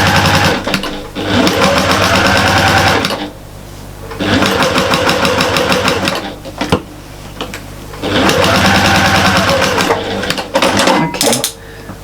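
A sewing machine stitches a fabric storage caddy in three long loud bursts of steady rapid whirring, separated by short pauses.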